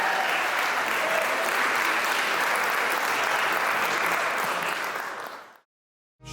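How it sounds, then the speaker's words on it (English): Wedding reception guests give a warm round of applause, a dense, loud wash of clapping that holds steady for several seconds before fading out and cutting to silence. "Nice round of applause, everybody."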